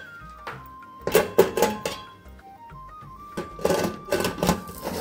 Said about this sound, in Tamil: இப்போ ஒரு மிக்ஸ் பண்ணி விட்டுட்டு